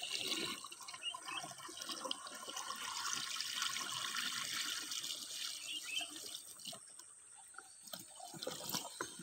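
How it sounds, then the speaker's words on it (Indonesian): Liquid fertilizer solution for young patchouli plants pours steadily into a spray tank, a continuous close splashing and gurgling stream with no talk. "Lalu kita tuang."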